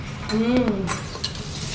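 Bitter gourd dropped into hot oil for frying, giving a soft sizzle with stirring and a few utensil scrapes over a short stretch, close and moderately loud.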